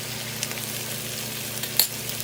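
Potatoes and chorizo cook in a pan with a soft, steady sizzle. Light stirring brings scattered scrapes and a sharp clink near the end. No talking.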